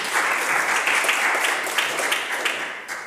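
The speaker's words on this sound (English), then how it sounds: "I would ask the House to please join me in applauding their good works." Members of the British Columbia legislature applaud in the chamber, a dense, steady round of clapping that carries on at an even level and tapers slightly at the end.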